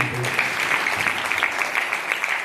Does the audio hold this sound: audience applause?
yes